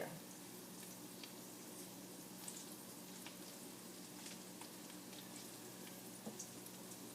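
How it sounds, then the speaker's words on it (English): Tofu fries quietly in a pan, a faint, steady sizzle with tiny crackling pops throughout, heard at a distance with no talking. "The reason I am frying my tofu because I want it brown and crispy a little bit on the side."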